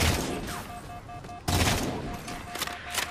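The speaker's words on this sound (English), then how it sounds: "You wanna stop shooting at me, sniper?" Sniper gunfire in the Halo 4 campaign: a dense burst of shots with a sharp crack midway, loud and continuous with no voices.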